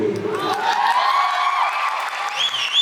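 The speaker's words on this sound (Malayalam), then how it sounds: "ഒരു പ്രാവശ്യം കൂടെ ആ കയ്യടി തരുമോ" Audience clapping and cheering at a theatre event for the film Sarkeet, with actor Asif Ali present; a dense, steady wash of applause with whoops and shouts, and a voice briefly over it.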